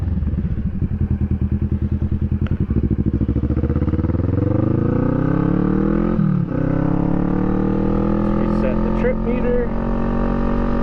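A Kawasaki Vulcan 650 S motorcycle rides along a road, its engine pulsing steadily and rising in pitch as it accelerates through the gears, loud and close, with a brief shift dip midway and a low rumble throughout.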